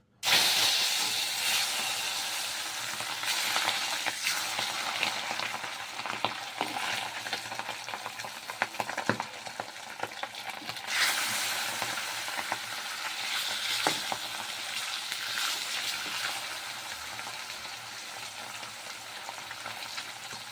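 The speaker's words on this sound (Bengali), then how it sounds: "মাছটাকে ভেজে নেব তো কড়াইতে তেল গরম হয়ে গেছে আর এখন মাছগুলোকে দিয়ে দিচ্ছি" Fish sizzling steadily in hot oil in a kadai, a loud, continuous crackling fry with small pops throughout, heard alone without any voices.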